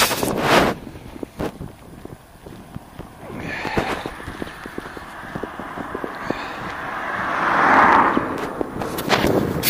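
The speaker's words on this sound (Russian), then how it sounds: "ветер дует" Gusty wind buffets the microphone outdoors at the edge of a town near a border checkpoint, rising and falling in rough blasts with a few scattered knocks and rustles.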